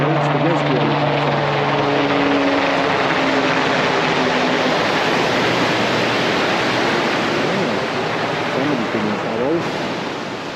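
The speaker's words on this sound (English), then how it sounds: "There's the helicopter going over there." Rescue helicopter passing over a shingle beach during cod fishing, a steady broadband rotor and engine wash lasting throughout, fairly loud and constant, mixed with surf noise and faint voices in the background.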